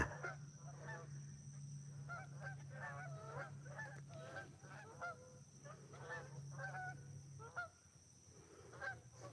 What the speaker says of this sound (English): Got these geese coming in.